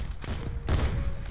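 Sniper rifle fire in a first-person shooter, with a sharp shot and then a louder burst of gunfire that rings on briefly, with no talk over it.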